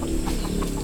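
A chicken clucking nearby in a short burst of soft, repeated clucks over a faint outdoor background.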